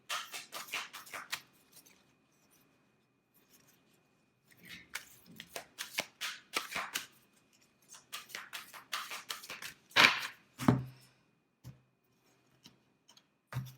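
Oracle cards are shuffled by hand in bursts of soft crisp riffling and slapping, with a pause in the middle and two louder snaps near the end, close and alone without talk.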